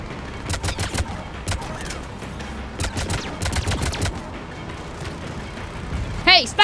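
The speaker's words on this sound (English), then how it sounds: "Hey, stop shooting at me!" Bursts of gunfire from the video game Mass Effect 3, clusters of sharp close shots in uneven volleys with brief pauses, ending with a short high tonal sweep.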